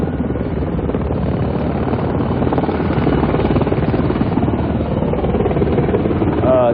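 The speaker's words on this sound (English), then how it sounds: "aren't these mostly cargo-carrying and personnel-carrying helicopters, UH-60s?" UH-60 military helicopters come in to land during an air assault operation, a loud steady rotor thrum and engine whine filling the whole stretch without a break.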